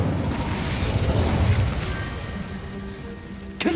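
The Incendio fire spell is cast in Hogwarts Legacy, a loud rushing, roaring burst of flame with low rumble that swells then gradually fades, ending in a short sharp crackle.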